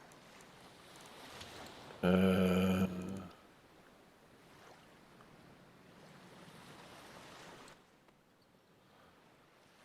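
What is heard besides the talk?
water and waves in the video game Cyclopean: The Great Abyss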